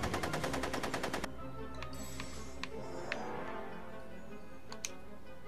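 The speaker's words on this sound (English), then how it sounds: "I'm finding it difficult to concentrate with all the bullets flying around my head" A rapid burst of gunfire in Back to the Future: The Game rattles off in a fast, loud string of shots for about a second, then a few isolated faint ticks follow over a low background hum.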